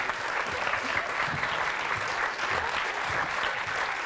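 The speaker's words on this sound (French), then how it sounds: "On peut l'applaudir très très fort." A French television studio audience applauds a guest, a dense, even wash of clapping that holds steady throughout, with no talk over it.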